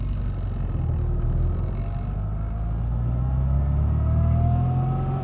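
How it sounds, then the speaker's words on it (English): A Rover Mini's engine drones and gradually rises in pitch as the car accelerates in fourth gear, a steady close rumble with a slight bog, heard alone without talk. "I just shifted it to 4th and it was boggling out because I wasn't going fast enough."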